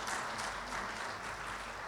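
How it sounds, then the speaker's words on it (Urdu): Steady applause fills a large gathering at a groundbreaking ceremony attended by political leaders in Sindh, a dense wash of clapping that continues evenly throughout without any voices above it. "ان کے لیے تالی تو بنتی ہے لازمی۔"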